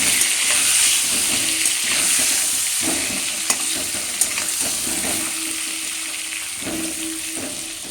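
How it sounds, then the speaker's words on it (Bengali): Potatoes frying in hot oil in a pan, a steady loud sizzle with hissing steam and occasional stirring scrapes, continuous and close with no talking. "আলুগুলো কিন্তু আমার ঠিকঠাক ভেজে নেওয়া হয়ে গেছে"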